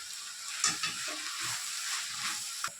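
Ingredients for mint chutney, seasoned with salt and turmeric, frying and stirred in a pan: a soft continuous sizzle with a few light scrapes of the spoon, close but fairly quiet, no talking.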